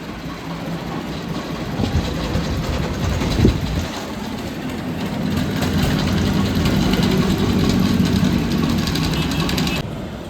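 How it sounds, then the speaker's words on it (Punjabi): A tractor with an attached trolley runs its engine on a street in Vietnam, a loud, steady low rumble swelling slightly midway over general traffic noise. "ਟਰੈਕਟਰ ਦੇਖੋ ਦੋਸਤੋ ਸ਼ਾਨਦਾਰ ਬਣਾਇਆ ਹੋਇਆ ਟਰਾਲੀ ਦੇ ਨਾਲ ਹੀ ਜੋੜਿਆ ਹੋਇਆ"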